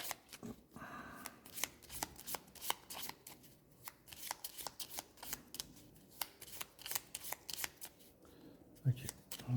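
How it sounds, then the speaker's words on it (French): Gloomhaven board game cards being shuffled by hand, a run of quick riffling and slapping bursts at close range, with brief speech now and then over the card noise. "Ok. Donc ça, c'est bon, c'est remélangé."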